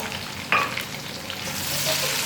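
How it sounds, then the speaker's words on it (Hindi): Onions fry in a pot on a stove for commercial deghi-style aloo palak, a steady close sizzle with a sharp stir or clatter near the start and the frying hiss swelling toward the end. "हम इसको उस वक्त भूनेंगे जब तक इसका कच्चापन खत्म ना हो जाए।"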